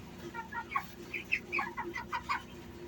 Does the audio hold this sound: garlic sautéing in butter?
no